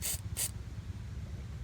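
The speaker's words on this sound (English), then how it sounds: "I'm gonna spray a little WD-40 on all of them." Two short hissing bursts of WD-40 spray onto the muffler bolts of a Toyota Yaris, close and distinct, followed by a low rumbling background.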